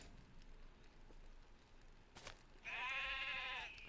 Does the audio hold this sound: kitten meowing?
no